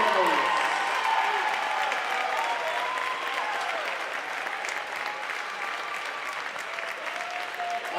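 Crowd at a college volleyball game applauds in an indoor gym, dense clapping and a few cheers filling the hall, strongest at the start and slowly easing off while staying sustained.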